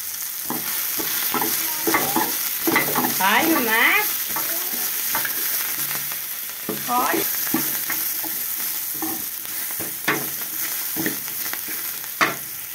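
Masala ingredients for an egg sambar are dry-roasted in a pan and stirred steadily, with loud, close scraping and rustling strokes over a constant hiss, plus a brief warbling tone early on.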